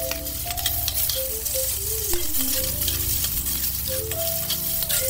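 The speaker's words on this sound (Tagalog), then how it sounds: "ginisa ko lang po yung ating bawang at sibuyas" Garlic and onion sautéing in a pan sizzle and crackle steadily and close up, with a continuous frying hiss and light stirring throughout.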